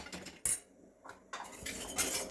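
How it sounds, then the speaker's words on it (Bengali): A utensil stirs lentils with salt inside a metal pressure cooker, giving soft scraping and a few light metallic clinks over a couple of seconds. "একটু নেড়ে দিলাম"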